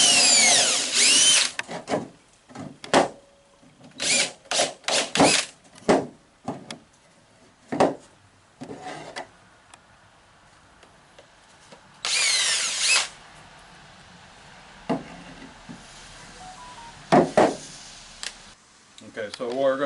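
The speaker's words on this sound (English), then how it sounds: "Okay, so we're going to pre-drill our holes." A power drill pre-drills holes in wood for a garden arbor, in a series of short whirring bursts separated by pauses, with occasional clicks and handling knocks.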